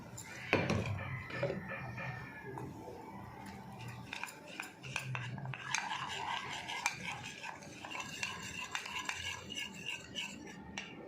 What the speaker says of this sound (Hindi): ठंडा दूध इसमें डाल के इसे अच्छी तरह मिक्स कर लेंगे